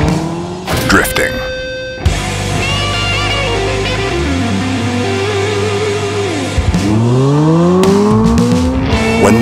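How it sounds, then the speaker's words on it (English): A Hyundai IONIQ 5 N electric performance car drifts, its tires squealing loudly and continuously under a rising and falling electric drive whine, close and dominant throughout. "Drifting."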